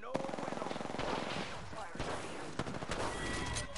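Rapid automatic gunfire from the Apex Legends video game, dense bursts crackling almost continuously for several seconds at close range, with no spoken voices over it.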